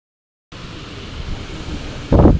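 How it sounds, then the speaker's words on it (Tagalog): Sudden strong wind gusting outdoors against the microphone, a rough steady rumble that rises in force, with a louder buffeting burst at the end. "Biglang lakas po ng hangin."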